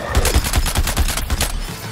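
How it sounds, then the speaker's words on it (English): Sniper fire in the video game Suicide Squad: Kill the Justice League comes as a rapid string of loud, punchy shots at a quick steady rhythm, about ten in two seconds. "His sniper fire rate is excellent."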